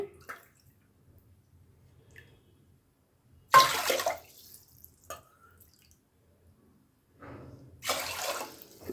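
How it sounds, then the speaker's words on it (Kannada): Water splashes and pours into a bowl of rice in two short bursts separated by quiet, with faint drips and small clinks in between. "ಅದೇ ಬೌಲಲ್ಲಿ ನಾನು ಇಲ್ಲಿ ನೀರು ತೊಗೊಳ್ತಾ ಇದ್ದೀನಿ"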